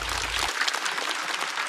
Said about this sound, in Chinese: 再次掌声送给雪冰